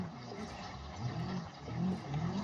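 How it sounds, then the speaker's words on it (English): A damaged car engine in the BeamNG.drive driving game gives a steady, moderately loud whirring rumble with a slight rise and fall, heard alone without talk. "Oh, the engine just broke or something got damaged."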